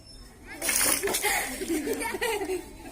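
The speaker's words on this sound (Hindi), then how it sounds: "देखो अब हटाएंगे तो पानी गिर जाएगा" Water splashes out of a glass in a school classroom air pressure experiment, a short spill heard close, mixed with children laughing and chuckling and someone talking.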